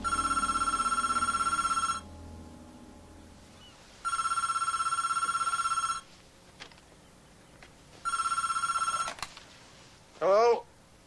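A telephone bell rings in three long bursts, each about two seconds with pauses between, loud and close, followed by a brief clatter as the handset is lifted.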